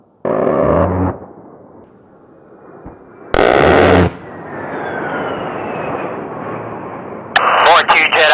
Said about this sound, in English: Also the A-10 is a 30 millimeter cannon